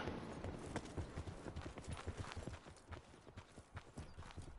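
Footsteps in Call of Duty Blackout, a rapid irregular run of thudding steps, close and fairly prominent, with no talking.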